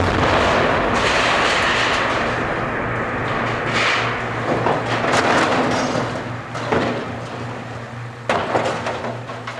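A loud recorded explosion of a 20% hydrogen gas mix, a booming blast with rumbling low end followed by several sharp cracking bursts and a lingering roar that slowly fades.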